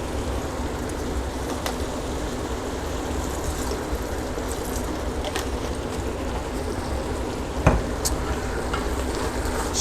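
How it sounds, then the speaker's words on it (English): Sherry cooking wine hits a hot pan for crawfish étouffée, giving a steady, loud, broadband sizzle with scattered faint clicks and one sharper clatter near the end, no voices. "We're going to add our white cooking wine, our sherry cooking wine"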